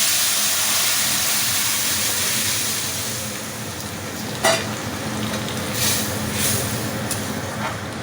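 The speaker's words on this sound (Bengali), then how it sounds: "এবার আমি ডালটা দিয়ে দেবো মশলাগুলোর ভেতরে।" Moong dal is stirred into fried spices in a hot pan for a fish-head muri ghonto: a close, steady hiss and sizzle with a few sharp scraping knocks from the spoon.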